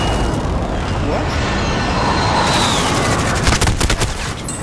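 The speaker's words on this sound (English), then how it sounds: "That's their airstrike." Heavy rumbling barrage from a video game airstrike, a dense continuous roar of blasts and gunfire with sharper crackling impacts toward the end.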